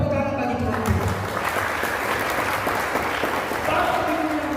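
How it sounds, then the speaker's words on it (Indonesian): Church congregation applauding during a worship service, a continuous bright patter of many hands clapping at close range for the whole stretch, with some voices mixed in. "Tepuk tangan bagi Tuhan"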